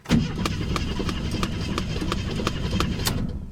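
A car engine with an electronic fuel pump catches and settles into an idle, the steady engine rumble marked by regular ticking pulses and holding at a fairly loud level throughout.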